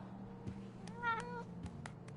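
A single short meow from a cat in the video game Life Is Strange: True Colors, soft and fairly faint over quiet background ambience and a few light clicks.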